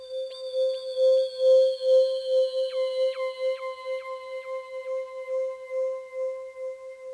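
Ring-modulated Rhodes electric piano sample without tremolo, a steady metallic bell-like tone with a sustained low drone and descending pitched partials that step down every half second or so, playing alone.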